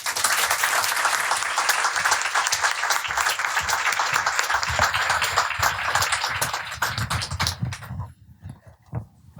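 Loud, continuous audience applause welcoming Bina Venkataraman and Anne-Marie Slaughter onstage, dense clapping sustained for about eight seconds before fading out quickly.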